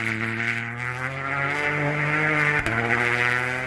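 Skoda rally car at full throttle on a snowy Arctic Lapland special stage, a loud, steady engine drone held close with a brief dip near the end as the revs drop and climb again.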